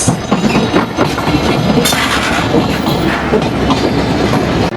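The Rupsha Express, an intercity train running from Khulna to Chilahati, passes near Hardinge Bridge, loud and close, with a continuous rumble and rapid clickety-clack of wheels on rails.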